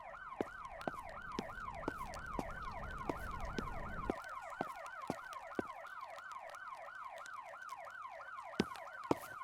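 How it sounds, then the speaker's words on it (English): Police sirens wail in the video game Police Shootout, a rapid, repeating rising-and-falling yelp that continues steadily, punctuated by sharp intermittent clicks or shots, with a low rumble fading out partway through. "I think I heard sirens."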